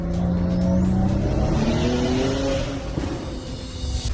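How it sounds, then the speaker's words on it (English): A Fortnite vehicle's car engine revs and hums steadily with a rising pitch, like a racing vehicle accelerating, loud and close throughout. "Epic Games even use their own car engines to make the Season 2 vehicle sounds."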